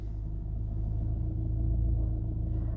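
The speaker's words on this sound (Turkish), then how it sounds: "Tekrar kontağımızı taktık. Arabamızı çalıştırdık." A Fiat Egea car engine idles steadily right after starting, a low constant rumble heard from close by without any talk.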